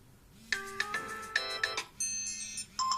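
A ringtone plays on an iPhone 5S running the iOS 7.1 beta: short, bright electronic chime phrases repeat in quick succession, fairly quiet and clean, with no voices.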